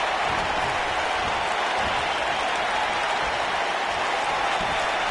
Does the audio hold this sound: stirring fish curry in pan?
no